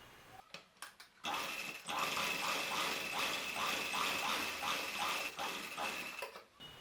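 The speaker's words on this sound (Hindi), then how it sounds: "अब दूसरी सिलाई हम यहाँ से किनारे किनारे लगाएंगे ताकि हमारी बुकरम इसके साथ सेट हो जाए" A sewing machine runs steadily close by for several seconds, stitching along the edge of a dhoti salwar, with a few brief clicks before it starts.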